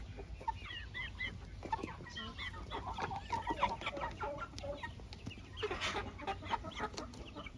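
Crested chicks cluck and peep in a quiet coop, a busy scatter of overlapping soft calls close by, rising briefly into a denser burst toward the end.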